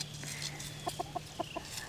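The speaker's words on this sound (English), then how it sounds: "Weirdo rooster. He's chasing one of his hens." A backyard rooster chasing one of his hens gives a quick series of five or six short, clipped clucks, fairly close over a faint steady hum.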